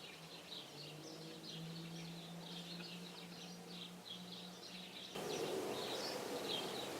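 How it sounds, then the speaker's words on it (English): Birds chirp and twitter faintly outside, with short repeated calls through the whole stretch, heard from indoors over a low steady hum and getting slightly louder near the end. "Can you hear all those birds?"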